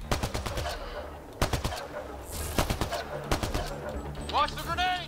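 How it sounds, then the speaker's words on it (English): Rapid bursts of shotgun fire in the video game Mass Effect: Andromeda, several quick rhythmic clusters of shots repeating across the clip amid game effects, with a voice talking over them. "That shotgun has got some range."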